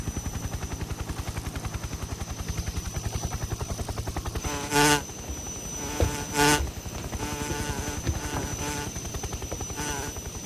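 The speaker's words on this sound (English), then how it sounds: "How a chopper got so close without hearing it is just beyond me." A helicopter in Metal Gear Solid 3 produces a rapid, steady rotor thump throughout, broken by two short bright bursts of other game sound midway, with no voices.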